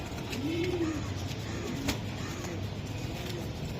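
A racing pigeon gives a soft, low cooing call, faint and fairly close, against a quiet steady background hum.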